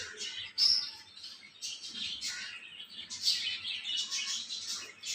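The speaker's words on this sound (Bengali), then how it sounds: "পাখির কিচিরমিচির ডাক" In the early morning, birds chirp around a balcony with potted flowering plants. Bright, high twitters and short calls come and go over several seconds at a moderate distance, with no talking.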